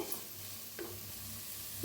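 Onion mixture with turmeric, coriander powder, chicken masala and red chili powder is stirred in a pan for egg curry, giving faint scraping and gentle sizzling up close.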